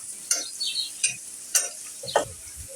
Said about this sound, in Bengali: বন্ধুরা, আমি পেঁয়াজটা লাল করে ভেজে নেব।